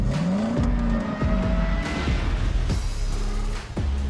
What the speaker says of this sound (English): It didn't sound like any Aston Martin I've ever heard.